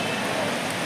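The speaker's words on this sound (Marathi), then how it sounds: "खूप पाऊस पडतोय" Heavy monsoon rain pours down in Mumbai during the Lalbaug Ganesh festival crowds, a steady, dense hiss with no break.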